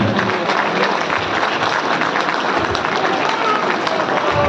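An audience at a gathering gives loud, dense, sustained applause to welcome a speaker, a thick, continuous roar of clapping close by, with crowd voices mixed in.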